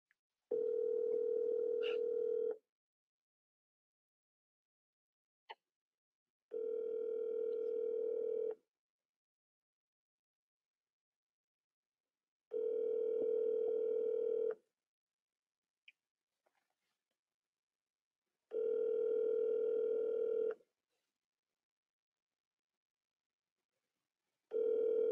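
A telephone line plays a steady tone in evenly spaced two-second pulses during a redial, about every six seconds, clear and alone with a few faint clicks between.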